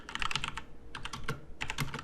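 A computer keyboard being typed on while code is written for a deep learning CNN lesson, with three quick bursts of rapid clicking keystrokes separated by brief pauses, close and clear with no talking.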